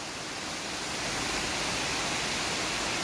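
Curug Nglimut waterfall roars as a constant, loud, even hiss of falling water that swells slightly and holds steady, with no voices.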